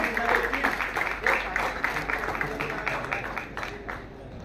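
A crowd at an agricultural leadership awards ceremony applauds Maharashtra's bamboo farmers, a dense spell of clapping that swells and then tapers off over a few seconds, close and fairly loud.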